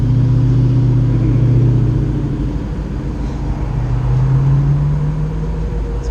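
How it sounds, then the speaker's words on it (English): Dodge car engine idling and revving, a loud close rumble that swells and settles in a steady low drone, with no voices. "It's one thing Dodge does right, is the sound of their cars."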